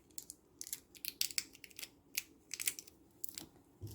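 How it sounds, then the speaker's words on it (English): Sticky tape is peeled in quick, crackly tears from a pink see-through Barbie doll life vest, a series of short close rasps with small gaps between them, fairly quiet and with no voices. "Let me take the tape off."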